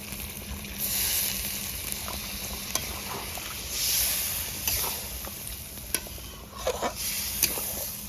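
Water poured into a pan of sizzling methi chicken curry gravy, a hissing sizzle swelling in waves, broken by sharp clicks and scraping stirs, heard up close.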